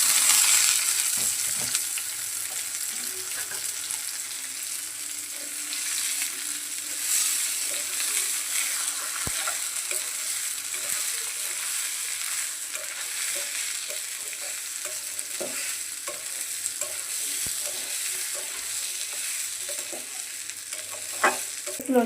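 Polao rice fries in a pan with onions, bay leaves, cardamom and cinnamon, giving a continuous close sizzle with frequent spatula stirring and scraping strokes throughout.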